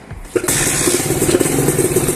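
An NSR motorcycle engine cranks briefly and catches, then settles into a loud, steady idle close by.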